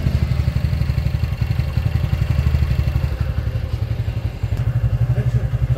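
A TVS Ntorq scooter engine idles steadily after a bearing repair, a close, continuous, even putter with a regular low thumping rhythm and no talking.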